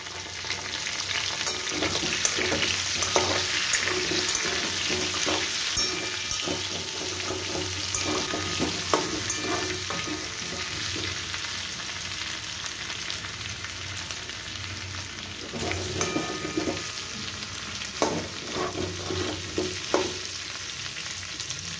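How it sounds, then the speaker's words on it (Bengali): Potatoes fry in oil in a covered pan for Kashmiri aloo dum, giving a steady, close sizzle throughout with occasional soft clinks and stirring knocks and no voices. "আরও 3-4 মিনিট এইভাবে চাপা দিয়ে আমি আলুটাকে ভেজে নেব"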